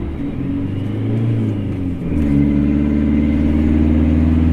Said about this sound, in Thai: ขับเรื่อยๆนะครับเกียร์สามอยู่นะครับกดบูธติดแล้วนะครับ